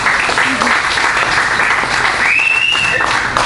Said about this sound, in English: A round of applause if you remember who Billy Mays was.